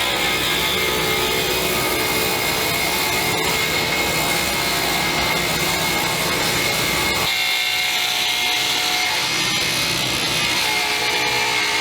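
Wood parts for a weave cutting board are cut on a power saw, with a loud continuous whine and rasp close by. The tone shifts partway through as the blade moves through the stock.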